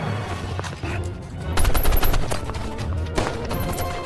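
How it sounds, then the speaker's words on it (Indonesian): Jim fires his pistol in a crime film shootout: rapid bursts of loud gunfire, crowded together and layered with heavy, booming impacts and clatter throughout. "dengan pistol andalannya Jim berhasil menghentikan pergerakan mereka"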